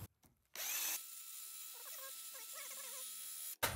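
A power drill spins a wet polishing pad on a headlight during restoration with a sanding kit, a loud steady whir lasting about three seconds between brief clicks and starts, with faint squeaks over it.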